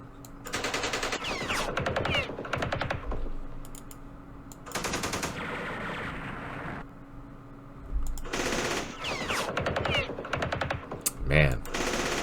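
Automatic and rifle gunfire in the Campaign Series Vietnam war game, Battle of Hue, comes as several loud bursts of rapid rattling shots separated by short pauses, over a steady low background hum.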